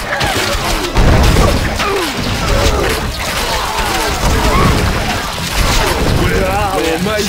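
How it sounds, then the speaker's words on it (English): Castle walls crashing under siege in the strategy game Stronghold Crusader, a dense stream of booms, smashes and thuds, loud and continuous, with game voices and talk over the din. "There, that's my castle you're destroying."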